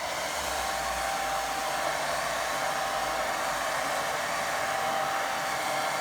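A hair dryer blows over a wet watercolour painting, giving a steady, loud, close whooshing roar that runs unbroken from start to finish with no talk.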